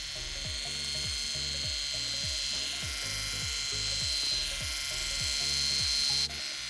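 A Micro Touch Max hair trimmer runs through eyebrow hair with a steady, close buzzing motor and rhythmic clicking pulses as it passes over, alone with no talking, then cuts off near the end.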